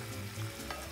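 Fish cooks in oil, giving a brief, dense frying hiss that stays steady and fairly soft throughout.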